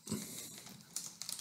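Quiet keystrokes on a computer keyboard at a desk, a short burst of soft clicks with a few sharper taps near the end, no voices.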